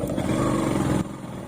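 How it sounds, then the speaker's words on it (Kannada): A motorcycle engine drones steadily beneath the rider, a close buzzing roar that drops to a quieter hum after about a second. "ನೋಡಿ ಈಗ ನಾನು ಬೈಕಲ್ಲಿದ್ದೇನೆ"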